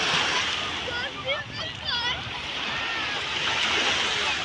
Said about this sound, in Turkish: Küreği yıkadı ve su getiriyor.